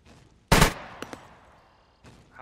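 A video game weapon fires at a zombie, one loud close burst followed by two faint quicker pops and a last distant shot, with no talk.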